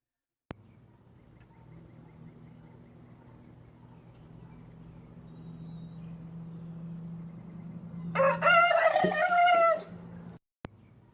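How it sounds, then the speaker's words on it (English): A rooster crows loudly in a video being played back, one long ragged call that comes near the end over a steady bed of buzzing crickets and insects before the sound cuts off. "Interrupting my rooster's crow."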